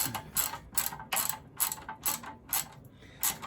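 Ratchet wrench with a 10 mm socket tightening a bolt on a vintage Honda CL350 motorcycle center stand, sounding as a series of about seven evenly spaced ratcheting clicks, close and fairly loud.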